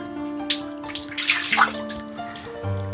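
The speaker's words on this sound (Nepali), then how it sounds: "यो चाहिँ तपाईँको ड्रागनको मुखबाट पानी आइराख्या बनाएर रहेछ" Water pours from a dragon-shaped spout into a Shinto shrine's hand-washing basin, a close, steady splashing trickle with a few drips and faint tonal sounds in the background.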